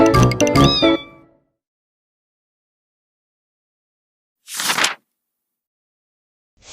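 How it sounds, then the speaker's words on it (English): A cat gives one clear, close meow with a rising and falling pitch in the first second. After a long silence, a short airy whoosh-like burst follows, and another faint sound begins at the very end. "This is my cat."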